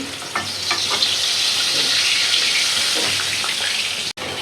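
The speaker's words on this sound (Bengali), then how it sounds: "মশ মশা ভাজা হয়েছে তাই নামাই নিতেছি" Koi fish frying in hot oil gives a steady, loud, close sizzle that runs without a break, with a few soft stirring clinks mixed in and no talking.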